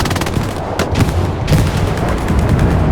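Tank cannon fire and an artillery strike in the Hell Let Loose video game: loud repeated booming shots and rumbling blasts come in quick succession, dense and close, with no voices over them.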